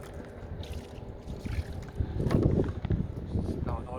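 Gusty wind buffets the microphone at a mill fishing spot, with uneven rumbling blasts that rise and fall and build strongest midway, over faint outdoor background.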